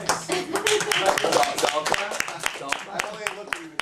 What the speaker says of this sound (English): you don't actually have to clap at all